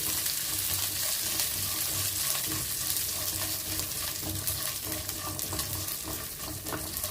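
Raisins, cashews and peanuts roast in a pan over a medium flame for pumpkin payasam, with a continuous close crackling sizzle and frequent scraping stirs across the metal.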